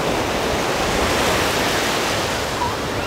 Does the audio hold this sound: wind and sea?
yes